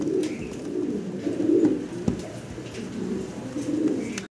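Fancy pigeons in a coop coo continuously nearby, a low, throaty rolling murmur rising and falling in repeated phrases, with a brief clatter near the end.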